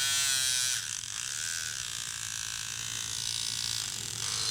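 A rotary tool fitted with a diamond bit works air-dry clay, giving a continuous high, whiny motor buzz up close that dips briefly as the bit meets the surface and then holds steady.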